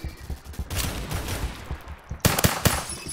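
Rapid bursts of automatic gunfire in a shooter video game, loud and close, with one sustained volley followed by a short pause and another sharp, crackling burst of shots.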